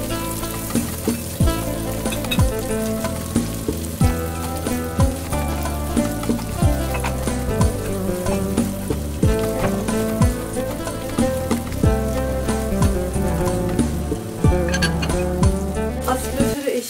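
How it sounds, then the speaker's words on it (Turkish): Continuous sizzling and crackling of Turkish sucuk sausage frying in a hot pan, with steady popping and occasional scraping, close and fairly quiet, a range hood running. "Şimdi ben sucuğu kızartayım."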